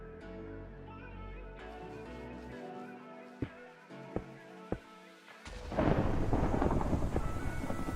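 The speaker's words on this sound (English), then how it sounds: "The thunder is ASMR" Thunder rolls through a Minecraft thunderstorm: a faint low rumble first, then a few sharp cracks around the middle, and finally a loud, sustained boom that fills the last few seconds.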